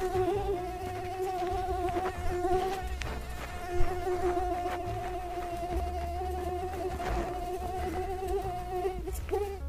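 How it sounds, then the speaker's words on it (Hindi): A persistent, close mosquito whine drones on without a break, a high, wavering insect hum holding steady throughout. "बहुत मच्छर लगता है यार।"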